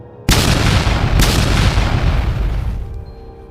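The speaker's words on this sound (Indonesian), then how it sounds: "Dentuman pertama terdengar saat mereka saling baku hantam." A single heavy boom marks fighters clashing in an arena. It hits hard and suddenly, then a deep rumbling tail fades over about three seconds.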